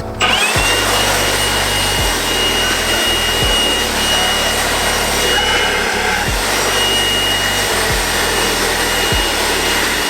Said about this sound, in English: I'm gonna blow it off with my leaf blower, get all the dirt around it.